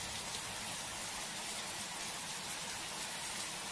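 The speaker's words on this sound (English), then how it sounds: "The leaves are falling, and so is the rain." Rain falls steadily in a Pocoyo kids' game, an even, faint hiss of dense drops with no variation and no voices.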